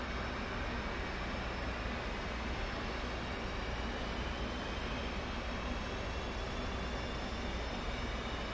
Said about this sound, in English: now we're ready to crank our number 1 motor or left motor